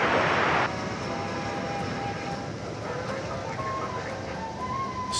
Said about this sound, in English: This is going to Cancun in Mexico to 737-800.